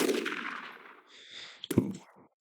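Aimed gunshots in the tactical video game Jagged Alliance 2: a fading ringing tone gives way to a sharp, loud shot report near the end, followed by a brief decaying echo.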